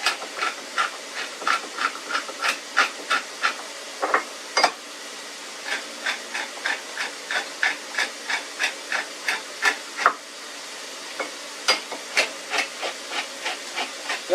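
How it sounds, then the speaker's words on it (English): Black pepper ground in a manual hand grinder, a long series of sharp, rhythmic cracking crunches in quick regular bursts with brief pauses, close and fairly loud, with no talking. "And grind up some black pepper."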